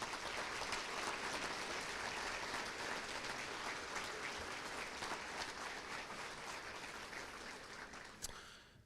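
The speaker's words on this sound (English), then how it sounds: "would you please take this moment to give all of our district support staff a round" An audience at a school district awards gala in Broken Arrow applauds district support staff with sustained, dense clapping that slowly fades toward the end.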